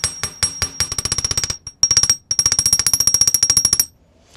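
A hammer strikes copper wire on a hard surface while making jewelry, in rapid sharp metallic taps with brief pauses between bursts, loud and close, ending abruptly.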